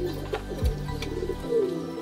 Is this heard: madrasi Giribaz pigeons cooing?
yes